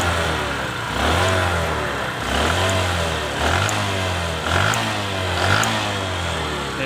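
A Bajaj Platina BS6 motorcycle, freshly rebuilt with new piston rings, revved repeatedly with the throttle: about six rising-and-falling engine surges over a steady idle, close and loud, with no voices.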